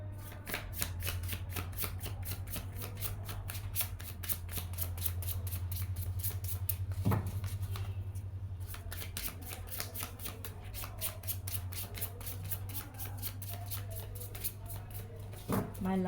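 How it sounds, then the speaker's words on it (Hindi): Tarot cards are shuffled in rapid, steady riffling bursts throughout, close and continuous, over a low constant hum with a sharp tap near the middle and another toward the end. "My last shuffle"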